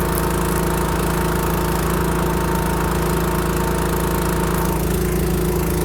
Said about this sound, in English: let it run on 3 and gradually clear its throat